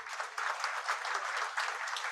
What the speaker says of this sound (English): can we give the 4 doctors who joined us here today a huge round of applause?